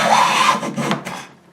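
A cheap hand jack plane is pushed along wood to take shavings, giving a loud, close rasping stroke that breaks into a few shorter scrapes and fades out.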